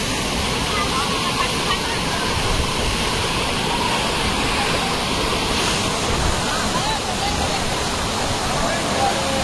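Mangampeta waterfalls in Kurnool roar with a dense, steady rush of falling water, loud and unbroken throughout, with no distinct voices standing out.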